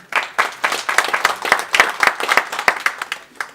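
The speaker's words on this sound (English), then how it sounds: "Janine, please give a round of applause." A small audience claps for a panelist at a business panel discussion on the LGBTI commercial and talent market, with loud, distinct, uneven hand claps close by that thin out toward the end.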